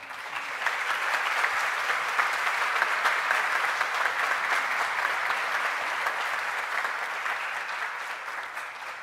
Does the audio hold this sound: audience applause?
yes